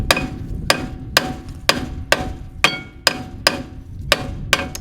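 A hammer gives a rusty brake disc on a Mk1 Ford Focus ST170 a series of firm taps, about ten sharp metallic knocks at a steady, unhurried rhythm, close and loud with a brief ring after each.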